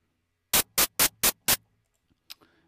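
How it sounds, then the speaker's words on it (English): Five short, evenly spaced bursts of white noise from an Ableton Operator synthesizer hiss out loud and bright, followed by a quiet pause and a few faint clicks. "I'm going to change this one here to white noise"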